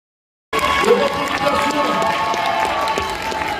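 Audience applause and cheering fill a cosplay contest hall at Kamo Play 2024, starting abruptly and holding steady as a loud, dense crowd wash with voices mixed through it.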